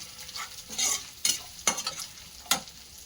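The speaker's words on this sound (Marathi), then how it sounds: "थोडंसं नमक टाकलं आहे आणि मग हे आपले आलू आपण मिक्स करून घेऊया" Spiced potato mixture with turmeric, coriander powder and salt being stirred in a pan, a few distinct scraping strokes over a soft background sizzle, close by.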